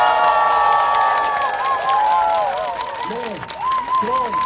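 Crowd at an outdoor presidential campaign rally in a Korean market, applauding and cheering; a sustained wash of clapping and shouts runs throughout, with shrill whoops and whistle-like calls rising and falling above it.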